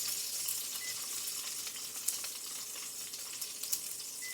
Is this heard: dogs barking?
no